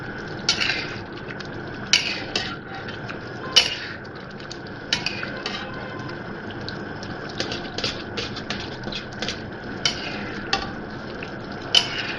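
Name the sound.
stir-frying mutton for karahi in a pan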